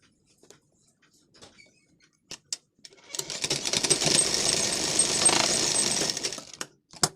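A sewing machine runs double-stitching half-inch tucks on a lined blouse: a few quiet handling clicks, then a close, steady whirring run for about four seconds before it stops.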